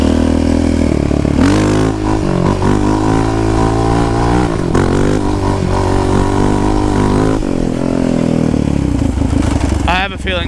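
A Yamaha Raptor 700 ATV engine accelerates hard along a road, rising in pitch through the gears with shifts and loud, close revving throughout, with someone speaking over it.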